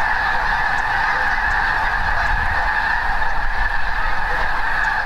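A large flock of thousands of snow geese at Fort Boise Wildlife Management Area honks continuously, a dense, loud wall of overlapping calls with no pauses.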